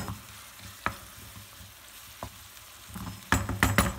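Onions caramelizing in a pan with a splash of water, being stirred: a steady soft sizzle with scraping stir strokes, growing louder and busier toward the end.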